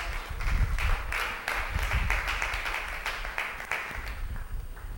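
A church congregation applauding, a dense and sustained wash of many hands clapping together, moderately loud, with no pauses across the whole stretch.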